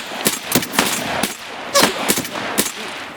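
Gunfire in Escape From Tarkov comes in sharp, loud bursts. Several closely spaced shots crack out across a few seconds with short gaps between them, and no voices are heard over the firing.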